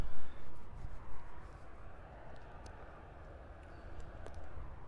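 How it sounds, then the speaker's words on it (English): An American Airlines Embraer E175LR airliner arrives at Miami International Airport as a distant, low, washing jet rumble with wind-like noise and no clear peak. "arriving next, we have another American Airlines Embraer E175LR"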